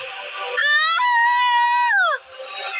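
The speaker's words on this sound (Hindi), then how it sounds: "दिशा की जोरदार चीख निकल गई।" A woman lets out a loud, drawn-out scream in a horror story. The shrill wail holds steady and then bends downward before breaking off, standing alone over a brief lead-in.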